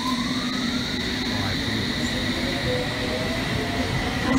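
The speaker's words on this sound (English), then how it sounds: "Here comes our train for Tower Hill, the Circle Line train." A London Underground Circle Line S stock train pulls into Tower Hill station with a steady rolling rumble and a faint high wheel squeal, loud and continuous throughout.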